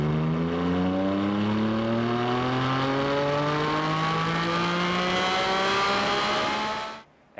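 Porsche 718 Cayman GT4 RS on a dyno, its exhaust sweeping steadily upward in a long, loud continuous rev with rising harmonics, then cutting off abruptly near the end.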